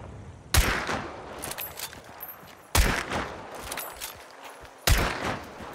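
Three sharp gunshots in Hunt: Showdown 1896 crack out about two seconds apart. Each hits with a hard attack and a rolling echoing tail, heard alone and moderately distant.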